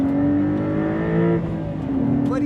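A 2025 Porsche 911 Carrera T with a manual gearbox pulls hard in second gear, its engine note climbing steadily in pitch, loud and close from inside the cabin, with a brief dip before it rises again.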